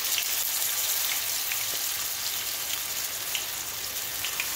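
Plantain patties with carrot and cheese sizzling in oil in a pan, a constant close crackling hiss dotted with small pops, no voices.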